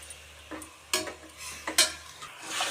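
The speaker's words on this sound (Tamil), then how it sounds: "இதை நல்லா சுருள சுருள வதக்கணும் இந்த எண்ணெயிலே அது வேகணும்" Food sizzles and spits in hot oil for a chicken gravy while a utensil scrapes and stirs in the pan in short, irregular bursts.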